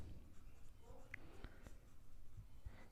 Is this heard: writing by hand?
yes